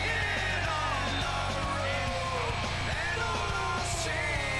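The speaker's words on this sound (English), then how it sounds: "The crowd are yelling fix." Crowd in the WWE 2K25 wrestling video game yelling loudly and continuously, a dense, steady roar of voices with rising shouts throughout, alongside a low rhythmic thumping.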